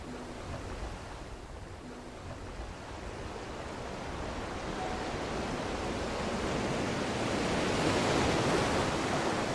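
Sea waves wash back and forth in a steady, hissing surf that slowly swells louder over about ten seconds, with no voices.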